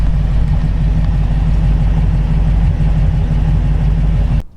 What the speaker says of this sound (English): Step out and let you hear it run here.